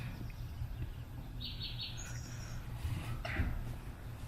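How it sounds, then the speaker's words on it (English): During a stage play of Macbeth, an owl screech sound effect gives a few faint, brief high calls over a low murmuring background. "I heard the owl scream and the cricket's cry"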